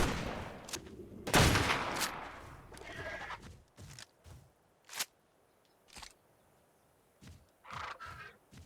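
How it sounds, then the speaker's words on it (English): Shotgun blasts in the survival game ARK: The Farewell Tour, a loud cluster of shots at the start followed by several sharp, separate reports spaced a second or two apart. "I think just using the shotgun like we did before works out the best"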